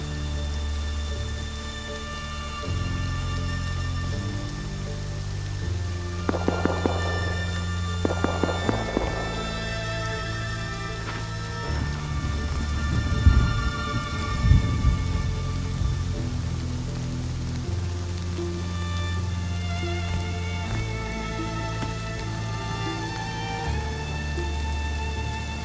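Rain falls steadily in the video game Rust, a constant patter under a layered music bed, with brief hoof-like or footstep clatters in the middle and no talking.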